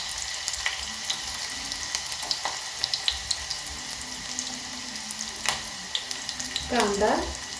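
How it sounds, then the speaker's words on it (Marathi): Chopped onion for a quick soybean sabzi goes into a pan with steady, close sizzling, light stirring scrapes over it and a short bright splash of sizzle near the end. "कांदा घेते टाकून"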